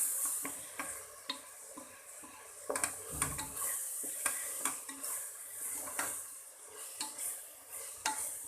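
Chili powder sizzles in hot oil in a pan for a biryani masala, with a steady crackle and repeated close scrapes of a spoon stirring through it.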